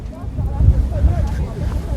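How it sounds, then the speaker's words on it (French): Wind blowing outdoors during an evening running race, a steady low rumbling buffet across the microphone that swells slightly midway and keeps on throughout. "Ah, il y a du vent."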